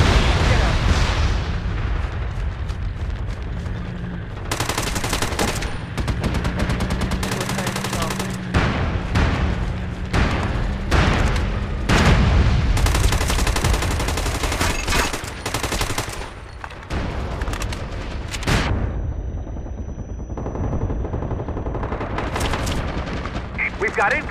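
Incoming artillery in the online shooter MAG, with dense rapid gunfire and repeated heavy explosive blasts, loud and close, over a constant low battlefield drone and occasional voices.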